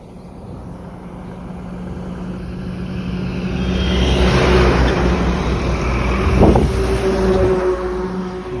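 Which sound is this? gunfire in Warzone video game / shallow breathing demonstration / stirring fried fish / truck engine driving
truck engine driving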